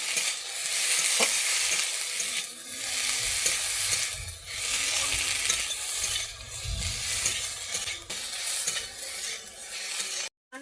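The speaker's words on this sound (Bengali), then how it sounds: "জিরেটা দিয়ে আমি একটু ভালোভাবে কষিয়ে নিচ্ছি" Ground cumin paste fries with tomato in a pan for a Bengali mourola fish curry, a continuous near sizzle under rhythmic spatula scraping and stirring.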